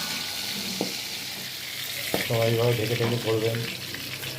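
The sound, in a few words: boal fish frying in oil, covered pan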